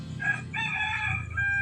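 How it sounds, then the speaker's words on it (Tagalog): A rooster crows once nearby, a short, loud, clear call of under two seconds heard on its own. "Yon, manok."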